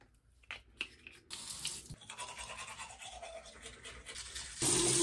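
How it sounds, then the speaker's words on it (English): A toothbrush scrubbing teeth at close range, a steady brushing rasp, with water from a bathroom sink tap running loudly near the end. "And my toothbrush."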